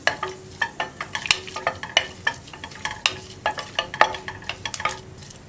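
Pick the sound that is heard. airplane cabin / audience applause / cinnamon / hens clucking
cinnamon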